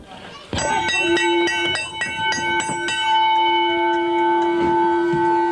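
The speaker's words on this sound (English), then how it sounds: "He rings a bell." A ringside bell at a 1997 pro wrestling event is struck about eight times in quick succession, each clang ringing on, with one more strike a moment later and commentators talking underneath.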